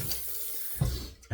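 Water running from a tap to rinse off after a shave, a steady close splash that briefly breaks off and then resumes.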